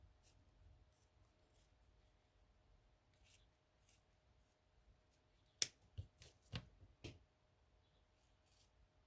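Scissors trimming handmade shoe material for a Ken doll, a quiet room with a handful of crisp close snips clustered in a short run, then silence.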